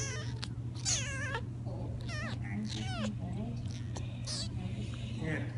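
A small kitten meows repeatedly in high, wavering cries near the microphone, heard over a steady background hum while people talk and soothe it.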